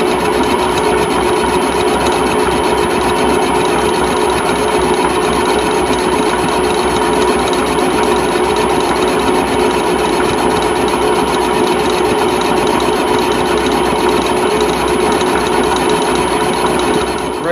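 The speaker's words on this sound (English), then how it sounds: "But we have a few clips from us doing the mill work" A milling machine cuts into a Bolens tractor sleeve hitch, producing a loud, steady mechanical drone with a constant whine that runs unbroken for the whole stretch, and nobody speaks.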